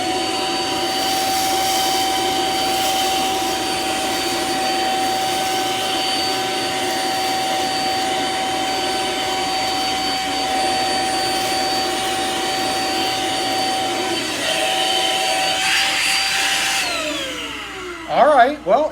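A Samsung CycloneForce upright vacuum picking up rice runs as a loud, steady close-up roar with a constant high whine for the whole stretch, then winds down with a falling pitch and a few rattles at the end.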